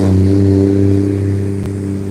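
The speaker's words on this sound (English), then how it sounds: "Coming up on the main drag here, and so you're gonna hear a lot of traffic noise." Traffic on a main road beside an urban pond, a loud steady low engine drone with strong tonal hum, a passing vehicle close by, no talk.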